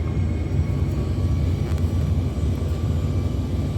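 A fixed-wing airplane on a flight from Innsbruck, its engine a steady, loud low rumble and drone heard from inside the cabin as thrust is increased, with no talking.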